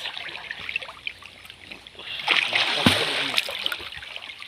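Friends splashing and playing in a farmhouse swimming pool during a birthday celebration, with splashes and sloshing water building toward one loud splash near the middle, voices faintly mixed in.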